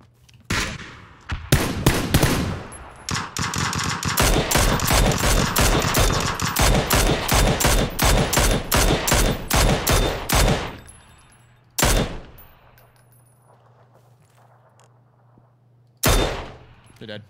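Rapid automatic gunfire in PUBG, long bursts of loud shots for about nine seconds, then a few isolated single shots with quiet gaps between them, while players talk.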